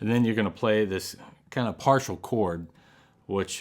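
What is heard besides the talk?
No distinct noise like a dog, phone or traffic.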